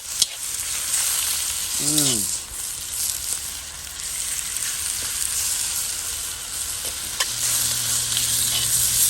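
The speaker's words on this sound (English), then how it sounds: "Oh, I don't know what it is about cooking stir fry outside." Steak fajitas stir-fry in a Lodge cast iron wok over a Weber kettle grill outdoors, a steady broadband sizzle with scraping stir strokes, a brief whistling tone near the start and a low hum entering late.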